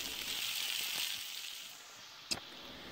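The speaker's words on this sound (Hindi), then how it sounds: "बस इनको उस वक्त तक फ्राई करना है जब तक इनकी लेस ख़त्म हो जाए" Okra fries in a pan with a soft, steady sizzle that fades slightly, broken by one brief clink near the end.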